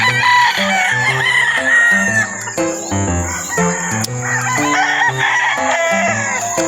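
Gamefowl roosters on a game farm crowing over one another, several loud overlapping cock-a-doodle-doo calls mixed with clucks and chirping birds, close and continuous.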